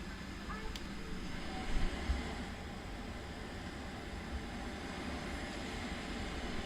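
A British Airways Boeing 777-300ER's engines hum in a steady, muffled cabin drone during pushback, with a faint thump partway through.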